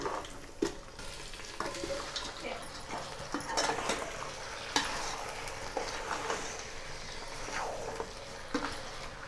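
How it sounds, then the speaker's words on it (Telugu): Chicken pieces frying in oil with ginger-garlic paste and whole spices for Hyderabadi chicken dum biryani, a steady sizzle with repeated clinks and scrapes of stirring, with faint voices and a dog whimpering in the background. "చికెన్ వేసిన తర్వాత మంచి ఒక 10 నిమిషాలు ఆయిల్లో మంచిగా మగ్గనియాల."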